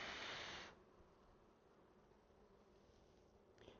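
Honey bees buzzing around a crowded hive being inspected: a loud, close burst of buzzing that cuts off abruptly, followed by a lower, steady hum of the colony continuing in the background.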